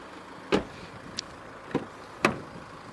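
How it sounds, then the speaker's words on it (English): Electric windows on a Range Rover Evoque 2.2 SD4 turbo diesel with a black leather interior run in a quiet cabin, giving several short, distinct whirring and clunking bursts spaced about a second apart, with nobody speaking. "Full electric windows."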